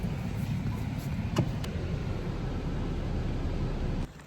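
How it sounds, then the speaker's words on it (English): Car driving along a road on a summer getaway, a steady broadband road and engine rumble with a few faint clicks, cutting off abruptly near the end. "let's go down our pathway in the car"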